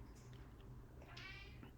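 A pet cat meows for food, a couple of short faint calls, the clearest one late in the clip, over a steady low indoor hum.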